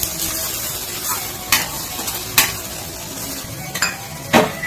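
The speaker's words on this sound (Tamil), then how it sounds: "இப்போ நாம முட்டையோட ஒயிட் இருக்கு இல்லையா, அதை சேர்த்தலாம். நல்லா கிளறி விட்டுலாம்." Egg whites fry in a pan for a spicy egg thokku, a continuous close sizzle broken by several sharp scraping strokes of a spoon stirring against the metal.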